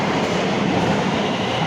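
A light-rail train rumbles at an underground station platform in the Robertson Tunnel in Portland, a loud, steady roar of wheels and motors echoing off the tunnel walls.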